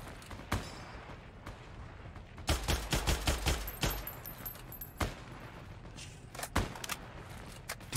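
Gunfire in the online shooter Heroes & Generals, with scattered single shots and a rapid burst of several loud cracks over steady background game noise.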